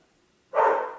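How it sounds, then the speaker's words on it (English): A single short dog bark rings out in the background of a quiet indoor room, one sharp yelp lasting about half a second after near silence. "I'm so sorry about the dogs in the background. If I wait for them to stop barking,"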